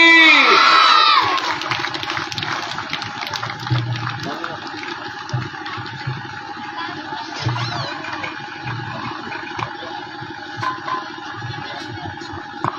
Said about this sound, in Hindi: जोरदार तालियां बोलिए भगवान बुद्ध की।